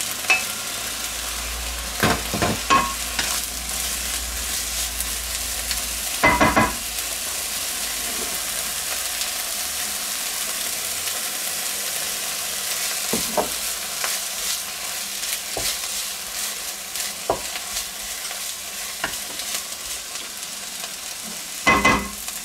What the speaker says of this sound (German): Dann schmoren wir jetzt die Bohnen